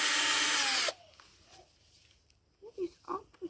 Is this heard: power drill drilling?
yes